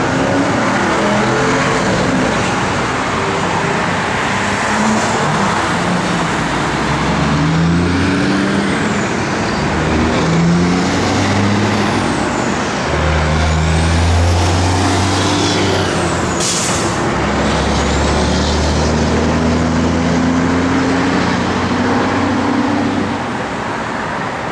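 A 1972 Oldsmobile 442 with a 455 cubic inch V8, Holley dual-feed four-barrel carburetor, Edelbrock intake and headers idles with a deep, loud rumble that swells in a few throttle blips, heard close with no talking.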